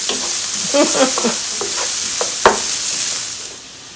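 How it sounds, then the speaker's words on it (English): Onions and garlic sauté in a pan, a moderate sizzle broken by a spoon stirring and scraping, with one sharp knock midway before the sizzle fades down at the end. "We're going to saute these onions and garlic till they're nice and soft"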